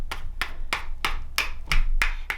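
A C.S. Osborne cobbler hammer lightly taps down leather stitching on a leather cup sleeve, giving seven crisp, evenly spaced knocks, close and fairly quiet against a faint low hum.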